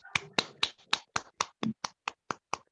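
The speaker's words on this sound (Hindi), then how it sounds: "जोरदार तालियों से क्लैपिंग के साथ हम लोग कॉल करते हैं" About a dozen sharp, evenly spaced claps ring out at a welcome for a speaker at an event, each distinct and separated by silence in a steady beat.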